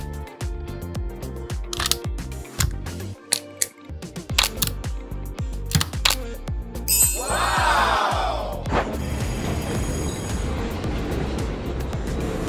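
A LEGO high-speed train climbs a rack railway slope with rattling, clicking mechanical noise that turns into a louder, steady grinding whir partway through, heard close with no talking.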